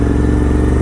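The engine of a GT 650 motorcycle running close and loud, a steady, throbbing, low rumble that holds even throughout with no voices.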